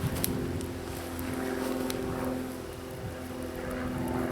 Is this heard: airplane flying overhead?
yes